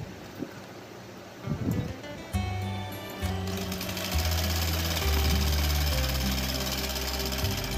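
An electric sewing machine stitches a Samalpuri blouse. It starts after a few soft handling noises, then runs as a steady, fairly loud mechanical whir with pulsing stitch knocks, speeding up in stages.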